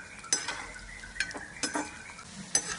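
Pieces of cabbage Manchurian frying in a pan are turned over with a utensil, giving several sharp clinks and scrapes over a soft, low sizzle. The sound is close and nobody speaks.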